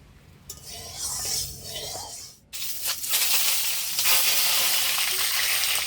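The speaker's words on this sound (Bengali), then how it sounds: "কড়াই অনেকক্ষণ ধরে গরম হচ্ছে উনুনে, ততক্ষণ আমি ডিম টিম সব ছাড়িয়ে নিলাম। তেল দিয়ে দিচ্ছি কড়াইতে।" Oil goes into a wok that has been heating a long time on a stove and crackles loudly; after a momentary dip, a dense, continuous frying sizzle carries on up close.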